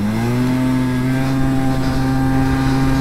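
Aprilia SR50 50cc scooter engine revving high and steady with a loose, lightly restricted exhaust, a close, loud sustained drone holding one pitch throughout.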